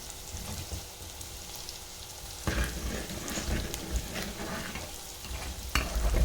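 Food sizzles in a hot pan as country chicken curry with pepper and cumin powder is stirred and scraped by a utensil, with a louder burst of frying partway through.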